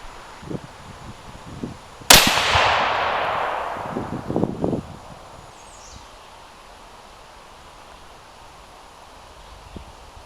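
A single loud .308 Winchester rifle shot firing a 155-grain BTHP match handload at a range, a sharp crack followed by a long decaying echo, with faint shuffling and handling noises around it.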